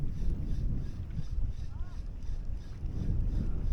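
Strong wind buffets the microphone on a shoreline during fishing, a low rumbling gusty roar rising and falling, close and continuous, with a faint short whistle partway through.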